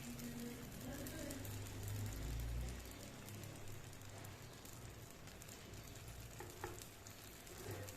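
Cheela batter spread thin on a tawa over low heat gives a steady, soft sizzle that runs unbroken throughout, with a few light scraping knocks as the batter is spread.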